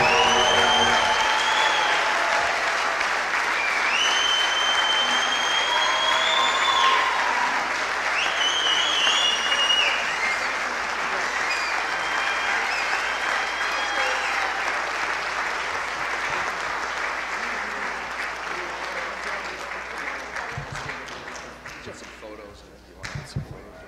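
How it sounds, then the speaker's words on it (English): Sustained applause from a large audience at an athletic Hall of Fame induction ceremony, honoring the newly inducted class of 2016; dense, steady clapping with whoops and some voices mixed in, tapering off toward the end. "Let's have a nice round of applause for the class of"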